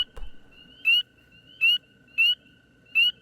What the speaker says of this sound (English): the sounds of the frogs permeated the airwaves once more